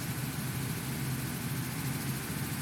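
A BP B7TL bus engine in the OMSI 2 simulator, a steady low diesel drone with a constant rumbling hum and a faint ticking edge, continuous and even throughout with no voices.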